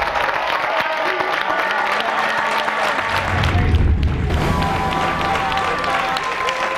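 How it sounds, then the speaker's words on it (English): Studio audience at a game show applauds steadily throughout, with some cheering and crowd noise mixed in and a low rumble swelling midway. "give them a round of applause."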